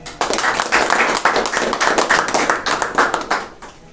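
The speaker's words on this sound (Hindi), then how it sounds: "हम परमेश्वर के लिए जोरदार तालियां दें।" A church congregation at a Sunday evening service claps steadily and loudly for a few seconds, the dense patter thinning out toward the end.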